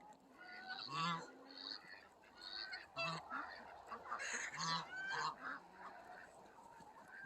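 A flock of Saxony ducks on a farm with huts and perches, honking and quacking in irregular overlapping bursts at moderate distance, with quieter stretches between calls.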